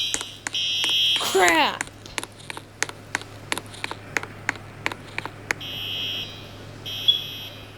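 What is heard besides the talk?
alarm going off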